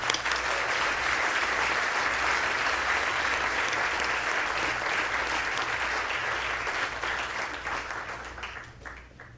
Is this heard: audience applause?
yes